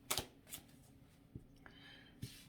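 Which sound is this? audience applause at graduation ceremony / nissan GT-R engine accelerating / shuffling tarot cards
shuffling tarot cards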